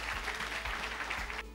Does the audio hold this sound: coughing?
no